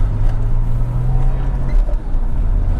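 Porsche 911 996 engine while driving, a loud, close low-pitched drone with a steady hum that drops off partway through, leaving a continuous rumble.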